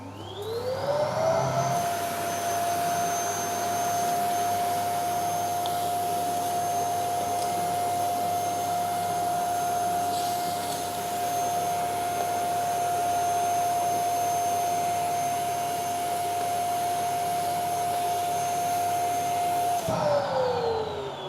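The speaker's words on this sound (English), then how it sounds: "You see the soot on there that we'll vacuum off in a moment." A vacuum cleaner sucks soot out of a wood stove's flue channel. Its motor spins up into a loud, steady, close whine that holds for about eighteen seconds and then winds down.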